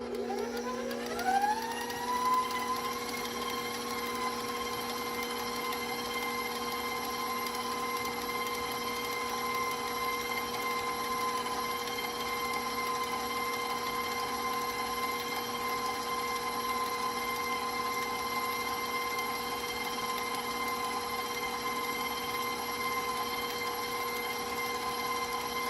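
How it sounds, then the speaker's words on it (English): An electric stand mixer runs steadily, beating chocolate peanut butter chip cookie dough, its motor whine rising as it spins up, then holding a constant, fairly loud hum for the whole stretch with no talk. "Now I can restart my mixer."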